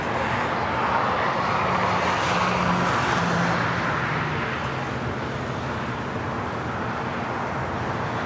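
An airliner taking off from runway 25 right at LAX, a broad, steady roar of jet engines at a distance that holds level then eases slightly, with a faint low hum beneath and no speech.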